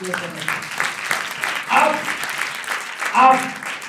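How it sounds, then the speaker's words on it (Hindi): A church congregation at a Sunday service applauds in rippling bursts, the clapping mixed with voices throughout. "समझ आई तो तालियां देंगे"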